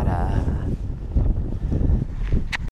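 Wind blowing out on open water during a cold fishing trip, a loud rumbling buffet against the microphone that continues steadily for a few seconds.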